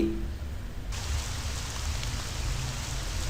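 Steady rain in the video game Amayado Bus Stop, a dense, even hiss of falling drops that holds constant and fairly loud throughout, with no voices.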